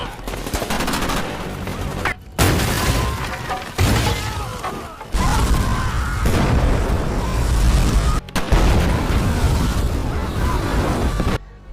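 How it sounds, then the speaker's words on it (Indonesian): A planted bomb is detonated in a war film, heard among heavy blasts, rolling booms and gunfire that fill the scene loudly with only brief gaps. "menginstruksi Nick untuk meledakkan bom yang telah mereka pasang"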